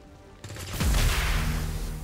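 A single heavy gunshot in XCOM 2 booms out after a quiet moment and rings into a sustained, rumbling tail, with no voices.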